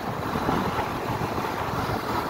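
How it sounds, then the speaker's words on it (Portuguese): Strong wind buffets the microphone during a test ride on a Honda CB300F Twister motorcycle in Maranguape, a loud continuous roaring rumble with no voices. "Acho que tá um vento muito forte aqui."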